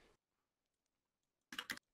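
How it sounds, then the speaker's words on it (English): Computer keyboard typing at a gaming setup during Fortnite play: one brief clatter of keys, a quiet pause, then a denser burst of rapid clicks, close and crisp. "Who you typing to?"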